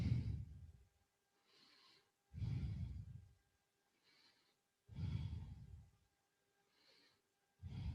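Deep, slow breathing while holding a yoga lunge with hands pressed in prayer: loud, close inhale-exhale cycles alternate with softer breaths in a steady rhythm, with no talking.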